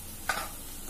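Semolina sheera with cardamom powder is stirred in a pan, giving one short scrape over a low, constant sizzle, close and with nobody talking.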